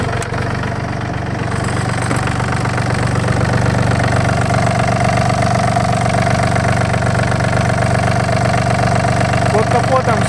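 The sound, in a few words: Yanmar AF226 mini tractor engine idling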